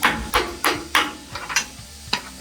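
Several sharp metallic hammer strikes land at an uneven pace, close and loud, during front strut installation on a Ram 1500, with brief pauses between blows and no talking.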